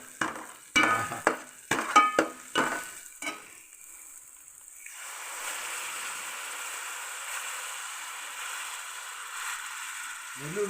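Mustard seeds frying in hot oil for a fish curry, with a few sharp clattering stirs and pops up front, then a steady soft sizzle that settles and continues alone at moderate level.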